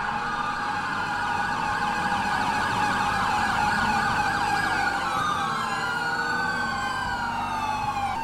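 Several GTA5 police car sirens wail together through Los Santos streets during a mass chase, overlapping sweeping tones staying loud and steady throughout.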